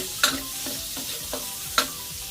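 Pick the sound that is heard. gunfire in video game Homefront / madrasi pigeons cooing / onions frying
onions frying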